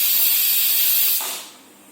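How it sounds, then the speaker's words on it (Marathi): Steam escapes from a pressure cooker holding egg biryani in a loud, sustained hiss that fades away over its final second. "आता कुकरची वाफ पूर्णपणे जाईपर्यंत आपल्याला वाट पाहायची आहे"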